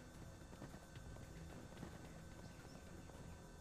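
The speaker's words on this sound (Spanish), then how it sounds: "Mira, ya veis ahí uno con un caballo infernal." Faint, rapid hoofbeats of an infernal horse mount in the game Paladins, a steady clip-clop buried in dense, noisy game ambience without any speech.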